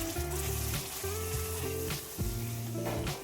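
Spice masala for a veg maratha curry fries in oil with a little water added, giving a soft, steady sizzle with faint stirring, quiet and without talk.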